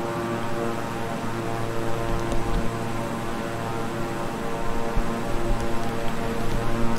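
Twin-engine King Air 350i turboprop in Microsoft Flight Simulator, a steady droning propeller and engine hum that holds evenly and swells slightly toward the end, heard alone.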